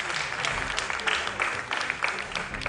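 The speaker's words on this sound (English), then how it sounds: "Please put your hands together for them." Audience at a school quiz applauds Grace Beacon Academy, a steady patter of clapping from a modest crowd, fairly close and continuous.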